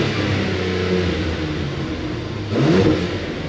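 A Mercedes C43 AMG engine rumbles loudly up close with the exhaust open, then revs sharply partway through with a rising, throaty burst before settling back.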